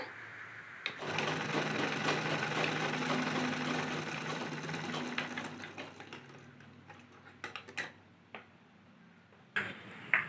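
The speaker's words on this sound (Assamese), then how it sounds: "এয়া টাইট দিয়াৰ পিছত চিলাইছো এয়া চাওকচোন চিলাইটো ভাল হৈছে" A sewing machine stitching after its thread tension was tightened, running in a fast, steady whir for several seconds before slowing and stopping, followed by a few faint clicks and brief mechanical bursts, fairly quiet and close.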